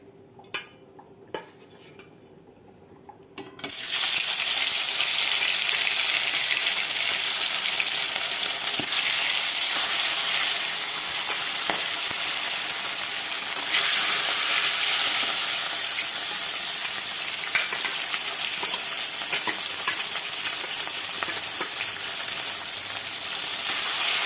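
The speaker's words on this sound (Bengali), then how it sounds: "আপাতত মাছের ঝোলটা বসিয়ে দিয়ে" Fish curry (macher jhol) bubbling and sizzling in a pan on a home stove. After a few quiet seconds, a loud and steady frying hiss takes over and runs on with small clinks. No one talks.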